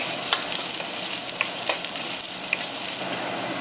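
Vegetables being sautéed with a pinch of salt in a pan for vegetable Manchurian give off a steady, close hiss and sizzle, with occasional stirring clinks and scrapes throughout and no voices.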